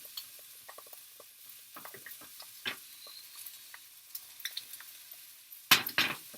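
A spatula scrapes and pulls beaten egg across a hot pan while an omelette cooks, giving soft intermittent scraping ticks and faint sizzle, ending in a louder clatter of utensil against pan.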